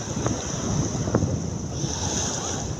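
Sea water rushes and surges into a small pool dug in the sand on a beach, a steady close wash of water mixed with wind buffeting the microphone, no voices heard.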